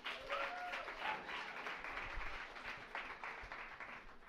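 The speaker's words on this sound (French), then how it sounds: "On les applaudit." An audience applauds at an evening student psychology event after sponsors are thanked, a steady patter of clapping hands in a room that carries on for several seconds without pause.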